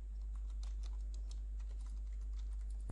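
Keys on a computer keyboard are tapped in a quick, light burst while a file name is entered, close and quiet clicks over a low steady hum, with no talk.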